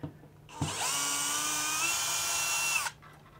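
A power drill works screws in drywall while a 3D printed Multiboard is mounted on a wall: one close, steady whine of about two seconds, starting with a sharp click and stopping abruptly.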